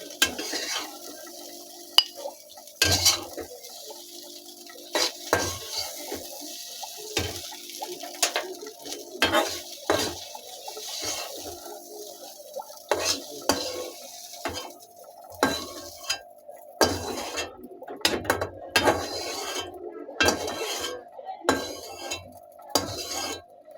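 Fried noodles being scooped out of a cooking pan into a dish. A spatula scrapes and utensils clink in scattered bursts, close by and moderately loud, over a quiet background.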